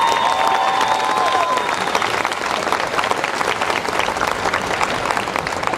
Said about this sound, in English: Let's give them a collective round of applause.